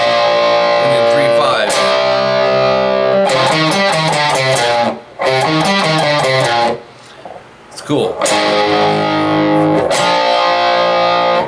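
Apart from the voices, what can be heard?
electric guitar riff with distortion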